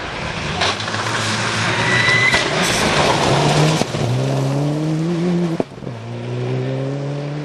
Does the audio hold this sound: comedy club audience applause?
no